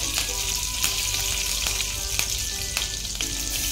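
Curry leaves drop into hot oil and sizzle loudly and constantly up close, with faint crackles and occasional stirring taps and no one speaking.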